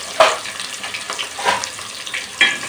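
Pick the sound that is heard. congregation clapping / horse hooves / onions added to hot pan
onions added to hot pan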